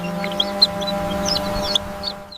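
Soft clucks and chirps from small chicks playing in a pond, scattered short calls over a steady low hum, fairly close and moderately loud.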